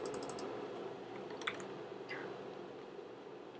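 Computer keyboard keys pressed a few times during text editing in Photoshop, light quick taps over a steady quiet room hiss, no talking.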